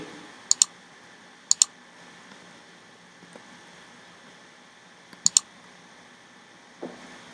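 Computer mouse clicks come in three quick double-click pairs, spaced a few seconds apart. They sound close and crisp over a faint steady room hum, with one softer tap near the end and no talking.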